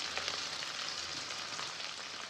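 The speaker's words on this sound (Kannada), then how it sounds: "ಇವಾಗ ಇದನ್ನು ಎಣ್ಣೆಯಲ್ಲಿ ಚೆನ್ನಾಗಿ ಫ್ರೈ ಮಾಡ್ಕೊಳ್ಳೋಣ" Cumin, crushed garlic, onions and curry leaves frying in oil, giving a steady, even crackling sizzle close by with no other sounds.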